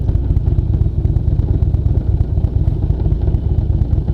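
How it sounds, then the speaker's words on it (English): Box rattling on the back of a moving motorcycle, a steady busy clatter over the constant low engine and road rumble, loud and close throughout with no talking. "Boy, that box is a rattling little bitch back there."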